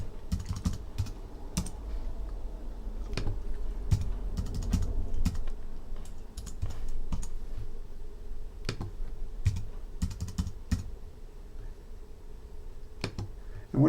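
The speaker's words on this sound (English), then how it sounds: "I'll just type in the first 5 odd numbers" Numbers being typed on a computer keyboard come through as close, irregular bursts of crisp key clicks, some in quick clusters and some spaced apart, over a low room hum.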